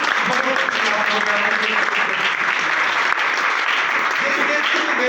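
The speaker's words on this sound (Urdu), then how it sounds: "زوردار تالیاں اپنے لیے۔" Congregation at a church sermon breaking into loud, sustained applause, a dense, even wash of many hands clapping at once for several seconds.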